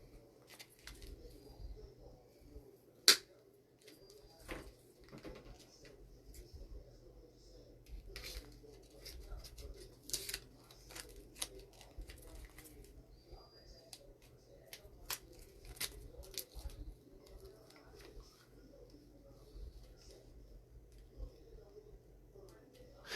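Snips from cutters slicing artificial pumpkin stems apart for a Sleepy Hollow wreath come as scattered sharp clicks, faint and irregular, under a low background hum and soft bird cooing, with people talking throughout.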